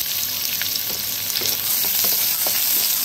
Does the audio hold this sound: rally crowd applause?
no